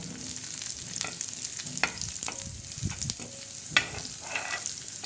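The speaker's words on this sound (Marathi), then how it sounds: "कांदा आता छान असा भाजून जाईल परत असं थोडासा हलवून घ्यायचा" Chopped onion frying in oil for a stuffed bitter gourd curry, a continuous close sizzle with scraping and clinking of a spoon stirring the pan, no talk.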